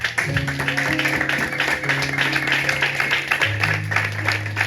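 A church congregation at a Sunday service applauds and acclaims. Dense clapping runs throughout, with sustained voices and music tones beneath it.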